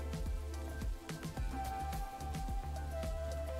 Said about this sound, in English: it's raining out again